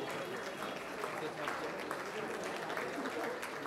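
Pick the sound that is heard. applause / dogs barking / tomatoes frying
applause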